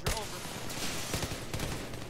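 Grenade launcher fired in Battlefield 3 on the Operation Metro map, a faint, quick volley of sharp gunfire-like pops among in-game battle noise, with a voice at the start.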